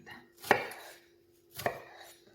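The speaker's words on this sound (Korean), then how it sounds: "먼저 양파를 썰겠습니다" Two crisp knife chops through an onion on a cutting board, close and fairly quiet, about a second apart with silence between.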